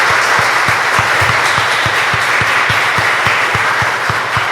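Sustained audience applause at a church preaching gathering, dense and loud throughout, with a steady rhythmic clap pattern running beneath the broad wash of hands.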